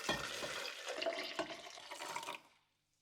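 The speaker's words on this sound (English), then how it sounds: "So I dumped it all into a beaker, along with a bunch of boiling water." Boiling water poured into a glass beaker, a close splashing gush lasting about two seconds before it stops, alone without talk.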